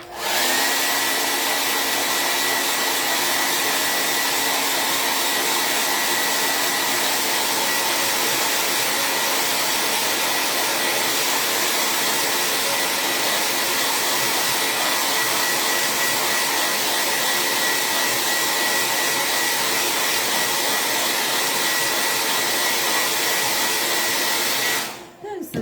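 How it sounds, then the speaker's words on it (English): A hair dryer blows steadily at close range, a loud continuous whooshing roar that runs unbroken for the whole stretch before cutting off at the end. "I'm going to turn on my blow dryer."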